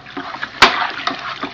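Water is swished around in an emptied homebrew brewing bag and dumped into a bucket: soft sloshing, then one sharp close splash, followed by smaller splatters and drips.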